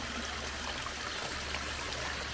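Water runs steadily at an 18th-century stone fountain, a soft continuous trickle and splash, faint and unbroken with no voices.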